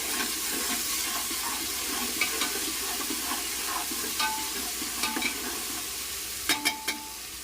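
Masala rice with green peas sautéed in a hot pan, a steady sizzle with occasional spoon scrapes and clinks near the end, no talking.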